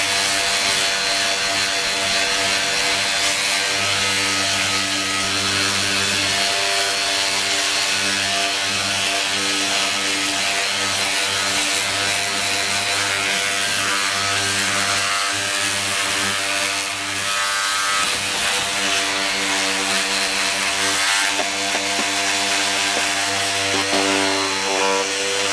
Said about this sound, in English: Now the Porter Cable Profile Sander is a really handy tool for all the corners and edges.